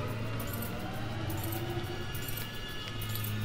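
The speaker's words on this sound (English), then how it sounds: "You know he's by if you can hear his keys shuffling." A janitor's keys jangle in the horror video game White Day, as faint metallic clinks scattered over a steady low ambient hum.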